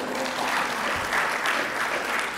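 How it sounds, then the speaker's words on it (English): A room full of attendees at a medical lecture on tumor board cases claps together, a dense, even wash of applause at moderate loudness that stays steady throughout. "so let's get a round of applause for him."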